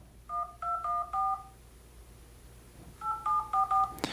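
Touch-tone dialing on a Sharp Aquos Crystal smartphone: two quick bursts of crisp dual-tone beeps, four tones, a pause of about a second and a half, then four more, close and clear with no voices.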